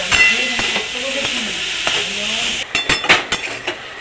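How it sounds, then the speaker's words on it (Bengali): Snake gourd is stir-fried with coconut in a pan, with a loud, steady sizzle and hiss and irregular scraping strokes from stirring. A faint voice murmurs in places. "সব কিছু একসাথে মিশিয়ে এরকম নেড়ে ছেড়ে বেশ কিছুক্ষণ ধরে ভাজতে থাকবো"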